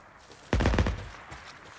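Light machine gun fire in the Days Gone video game: a loud, close burst of rapid shots lasting about half a second, then fading into quieter ambient game sound.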